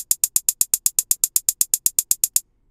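A closed hi-hat from the Logic Ultrabeat drum machine ticks out straight sixteenth notes, about twenty crisp, evenly spaced bright hits, then stops.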